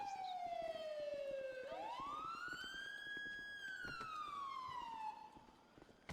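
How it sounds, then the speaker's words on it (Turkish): A video game police siren wails steadily, its pitch sliding down, sweeping back up and falling again, loud and continuous over a faint rumbling engine. "Siren kapatma arkadaşlar."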